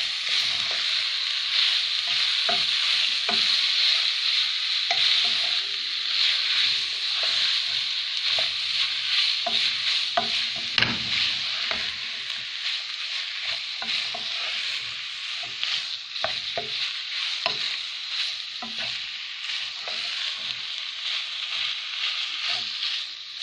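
Ground meat fries with onions in a pan, giving a loud, continuous, bright sizzle that goes on without a break, with frequent scraping taps of a stirring utensil mixed in and no talking.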